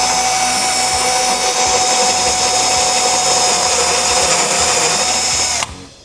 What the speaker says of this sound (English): I always use a step bit when I'm drilling into plastic